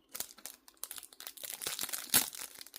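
Sticky tape pulled and peeled off product packaging, giving a run of crinkling, crackling tears and rustles with a sharper rip near the end, close up and with no talking.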